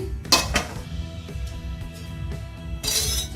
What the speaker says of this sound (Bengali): তিন চার মিনিট পর ঢাকনাটা উঠিয়ে